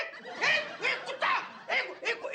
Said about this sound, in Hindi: इसे इंग्लिश में डॉग, हिंदी में कुत्ता, गुजराती में कुतरो और मराठी में कुतरा कहते हैं